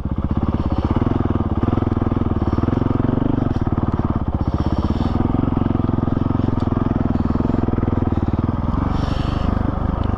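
A Honda CRF450RL motorcycle ridden slowly in first gear, its engine thumping loud and steady up close with a rapid even pulse, the throttle eased on smoothly and holding the same tone throughout.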